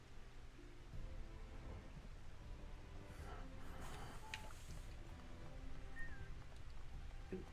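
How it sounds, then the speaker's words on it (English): Soft, steady rainfall with a low rumble of thunder underneath, faint and continuous throughout with a few brief higher tones, from rain in the video game Final Fantasy XIV. "It's raining"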